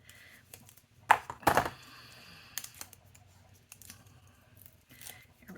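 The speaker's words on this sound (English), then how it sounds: "now it's not wanting to come off as good" Adhesive tape peeled off paper during a card-making craft, heard as a few short, sharp tearing rips up close. A person talks quietly between them.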